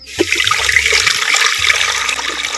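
Fresh water, about a quarter litre, poured into a clay pot set up for boiling plantains; a steady splashing, trickling pour heard up close and fairly loud throughout, with no talking.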